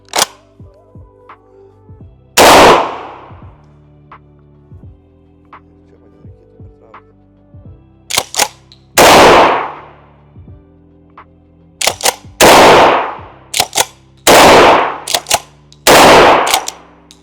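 A Turkish budget smoothbore shotgun fires at a shooting range: loud, sharp blasts at irregular intervals, several in quick succession, with a low hum and small clicks between shots.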